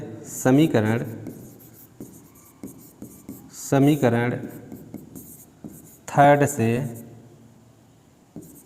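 A pen scratches across paper in short bursts while a math equation is worked through, with quiet pauses between strokes. A voice can be heard speaking in the clip.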